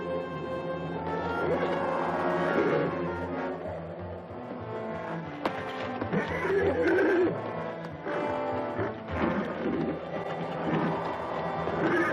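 Horses whinny and shuffle amid a busy, noisy scene, with people talking in the background.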